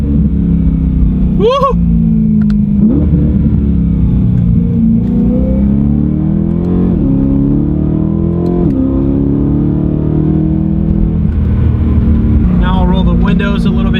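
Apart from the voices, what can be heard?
BMW E9x M3 with muffler delete exhaust revving and downshifting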